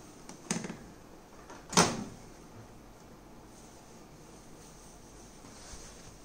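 An oven door opens after an eggless coffee cinnamon cake has baked, giving a couple of soft, brief clunks against faint room noise, with no voices.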